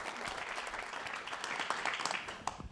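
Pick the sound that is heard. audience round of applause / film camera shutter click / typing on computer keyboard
audience round of applause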